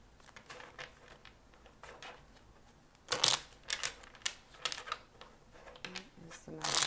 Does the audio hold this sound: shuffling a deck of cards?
yes